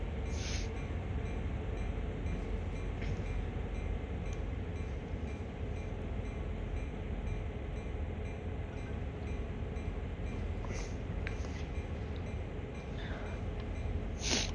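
A locomotive in Train Sim World moving a cut of boxcars at a terminal, with the throttle down. The sound is a steady low rumble, with faint high clicks and squeaks now and then and no talking.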